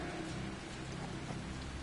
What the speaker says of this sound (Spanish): pinches tronos bien culeros